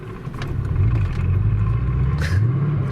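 A Mercedes E55 converted to a manual gearbox drives with a steady low engine rumble that climbs and falls in pitch as it revs and shifts, close and continuous without talk.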